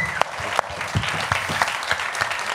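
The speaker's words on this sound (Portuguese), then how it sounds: "Senhoras e senhores, Padre Paulo Parazzi, vamos aplaudi-lo." Audience applause at a talk with a priest as guest, steady clapping across the whole stretch with a few sharper individual claps standing out.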